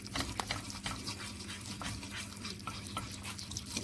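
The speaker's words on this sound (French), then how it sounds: "Bien mélanger en même temps." A spoon stirs milk into a potato and chicken gratin mixture in a bowl, giving a continuous wet, sloshing scrape with soft clinks throughout and no talking.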